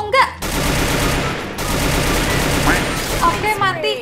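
Rapid bursts of automatic gunfire crackle loudly and continuously in the video game Free Fire, with brief pauses between volleys and sharp weapon effects near the end.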